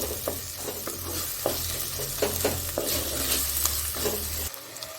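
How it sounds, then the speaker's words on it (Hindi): Finely chopped tomato sizzles in hot oil while a spoon scrapes and stirs it in a pan, a steady close fry for a dhaba-style chicken handi, ending abruptly. "अब एक टमाटर, एक मीडियम से कली हूँ मैं, उसको अच्छे से बारीक काटी हूँ। इसको भी तेल में भुनेंगे।"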